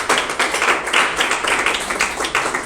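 A church congregation claps during a sermon, a brief, fairly loud burst of hand claps with an uneven rhythm that goes on with no voices over it.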